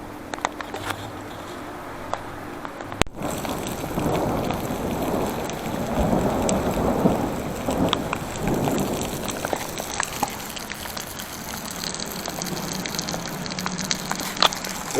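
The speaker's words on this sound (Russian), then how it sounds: "дождик усилился" Rain pours down beside a bridge where a traveller shelters in Sichuan, China, a steady broadband hiss that swells heavier through the middle, with a sharp knock near the start and scattered drips and crackles, no talk.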